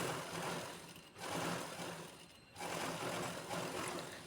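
A sewing machine stitches a princess-cut blouse with a patti panel, in two or three steady, whirring bursts broken by short pauses. It sounds close and even, with no talk.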